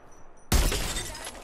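An enemy's shield shatters in an online battle-royale shooter, a sudden loud glassy crash that bursts in mid-clip and then trails into a sustained noisy wash of game sound.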